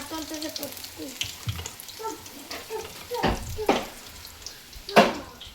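Onion pakoda frying in hot oil, a soft bubbling sizzle with occasional louder splashes and stirring clatter, heard close under light talk.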